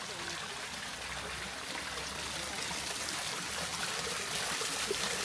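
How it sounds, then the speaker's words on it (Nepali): Water flowing out of a tree stump near a lake in Pokhara, a continuous close trickling stream that stays steady and fairly loud throughout. "मुढाबाट आफै पानी निस्किँदो रहेछ"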